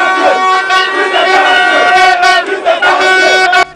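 A large crowd of young people shouts and chants at the Fix the Country street demonstration, a loud, continuous roar of many voices that stays dense from start to finish.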